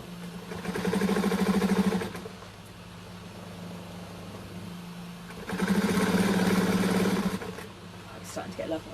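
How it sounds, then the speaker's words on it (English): A sewing machine sews bias tape onto a mat in two sustained whirring runs with a quieter pause between them, heard at a moderate distance. "I'm only just literally sewing the bias tape on around the top."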